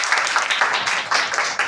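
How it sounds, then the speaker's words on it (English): Children clap for a correct answer at a classroom spelling competition, a dense burst of applause from a group that swells in waves over nearly two seconds. "Okay, clapping."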